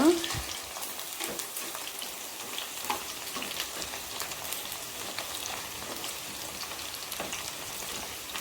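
Okra (bendakaya) shallow-fries in a pan with a soft, steady sizzle and fine crackling, fairly close and even throughout, with a slightly louder burst at the start.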